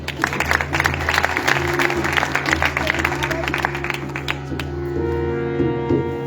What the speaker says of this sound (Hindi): आप अपने लिए ताली देना, शाबाश।